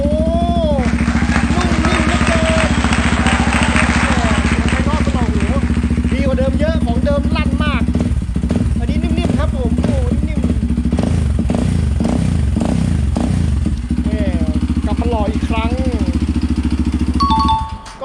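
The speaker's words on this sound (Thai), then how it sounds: "มาฟังเสียงกัน ว่า ท่อผ่าเสร็จแล้วมันจะเป็นยังไงนี่ครับ ประกอบเรียบร้อย สตาร์ทครับ" A motorcycle with a cut-open, modified exhaust pipe idles loudly and close with a steady rumbling throb, rising in a few blips of revving as someone talks over it.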